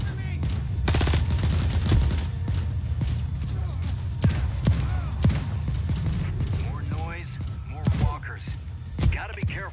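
Gunfire in The Walking Dead video game: steady volleys of rapid shots and sharp cracks over a busy rumbling game backdrop, with a voice talking intermittently through the shooting.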